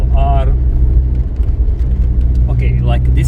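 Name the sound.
car passing by on snowy road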